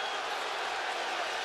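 A football stadium crowd at a college game roars in a dense, sustained wash of cheering and noise, loud and steady throughout as fans react to a possible fumble.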